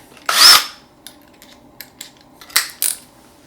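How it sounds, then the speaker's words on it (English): A power drill fitted with a Phillips bit whirs in one short burst while mounting a TV wall bracket, then small clicks and taps follow before two more quick bursts near the end. "Now we'll take the drill"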